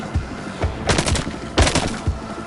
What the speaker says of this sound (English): quick little auto rifle here, short, little range